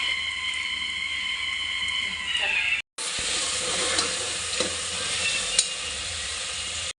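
Onions and green chillies frying in hot oil until golden brown, a steady close sizzle broken by a short gap, with occasional stirring scrapes over the continuous hiss.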